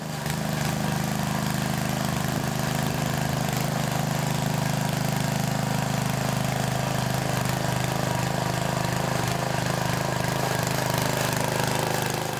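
A garden rotavator's small petrol engine runs steadily and loudly close by for the whole stretch, with a constant low drone and no pauses and no talking.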